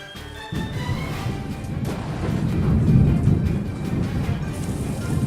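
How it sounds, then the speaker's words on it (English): Steady heavy rain pours down in the mountains of Mozambique near Mt Binga while rolling thunder rumbles, building to a louder peak midway, with no voices present. "Let's see what happens when it rains here in the mountains."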